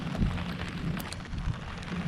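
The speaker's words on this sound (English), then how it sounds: "Can't see too well because of the rain here." Rain falls steadily around a sailboat heading for a mooring near Key West, a continuous close hiss of drops with a low rumble underneath and no voices.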